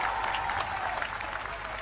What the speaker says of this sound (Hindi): ताली बजाओ तुम लोग।